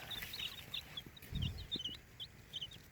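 Eight chickens on a small farm cluck softly nearby in short, scattered calls, with brief rustling and low thumps underneath.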